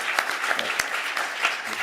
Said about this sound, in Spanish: un aplauso para Pedro, por favor.